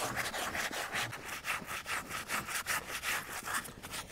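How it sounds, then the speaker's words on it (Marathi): A stiff brush scrubs soapy fabric in quick, rhythmic back-and-forth strokes, a steady run of close, raspy swishes with no voices. "परत एकदा साबणाने आपल्याला असा ब्रशने घासून घ्यायचा आहे"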